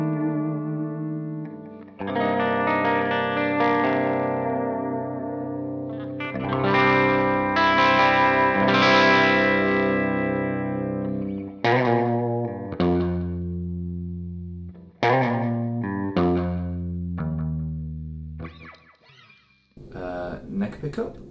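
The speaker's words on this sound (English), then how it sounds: "I'm going to switch over to a clean sound that I came up with," Clean electric guitar on the bridge pickup through an HX Stomp preset, a sustained chord followed by ringing chords and single notes, close and full with some effects shimmer, no talking.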